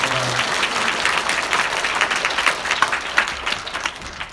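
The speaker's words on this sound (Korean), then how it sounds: "우리 귀한 말씀 증거해 주신 목사님께 우리 뜨거운 박수로 감사드립니다." Warm applause from a church congregation thanking the pastor during an Easter worship service at Sarang Jeil Church, a loud, sustained patter of many hands with a few sharper claps standing out toward the end.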